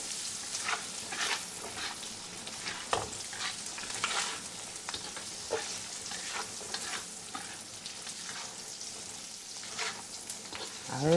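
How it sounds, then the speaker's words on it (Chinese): Cured Chinese sausage fried rice is stir-fried in a wok, with a steady crackling sizzle and irregular scraping strokes of the spatula against the pan, continuous and close throughout, with no talking. "炒香佢。"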